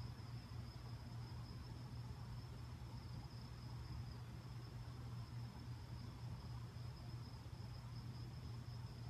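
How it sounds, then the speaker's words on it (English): Crickets chirp outdoors at night in a small town, a steady continuous high trill, faint and unbroken, with no voices. "The crickets sound awesome."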